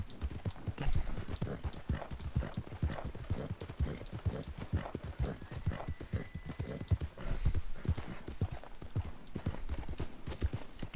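Horse hooves clip-clop steadily in Red Dead Redemption 2, a rapid, regular run of close hoofbeats over a low ambient bed, with no talking.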